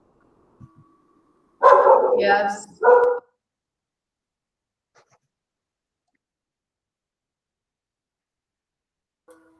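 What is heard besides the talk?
several dogs barking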